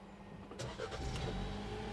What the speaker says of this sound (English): Press brake and push start button.